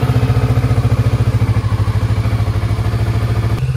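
A motorcycle engine, freshly serviced with an oil change and new oil and air filters, idles close by with a steady, rapid low pulsing throb that runs on evenly throughout, with a slight shift in tone near the end.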